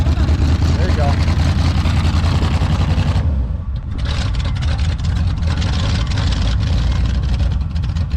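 An abandoned 1979 Chevrolet engine runs after a jump start, a steady rough idle with a loud, continuous low rumble that briefly dips before settling back, close by and unbroken.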